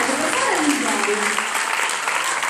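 Applause from a live show audience, continuous dense clapping with voices sounding through it.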